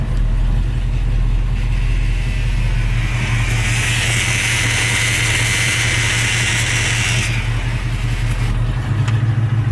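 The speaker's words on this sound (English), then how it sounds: "when you put it in reverse, it starts to do a little whine." A car's gearbox whines steadily while the vehicle is in reverse, a continuous close tone sitting over a constant low engine hum, rising noticeably in the middle stretch before easing off near the end.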